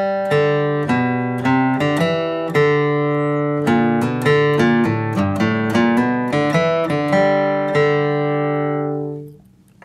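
Flatpicked acoustic guitar plays the Cripple Creek melody into a bluegrass lick, bright, clearly separated picked notes in a steady bouncing rhythm, close and alone, fading on a final ringing note.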